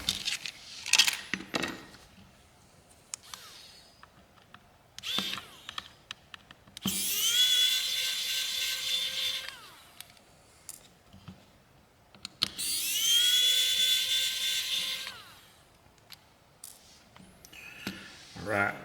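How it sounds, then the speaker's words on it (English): Small screws are removed from a MaxWest Astro A63 phone motherboard during a teardown: scattered small clicks and tool contacts, plus two long high-pitched whining bursts like a small electric screwdriver, close up with brief quiet gaps. "It looks like we got a couple more screws in the motherboard, so let's take those out real quick."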